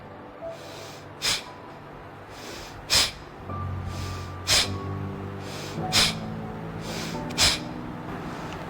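Deep abdominal breathing exercise with slow, forceful breaths through the nose, each a sharp whooshing burst, repeating roughly every one and a half seconds close to the microphone over a faint steady hum.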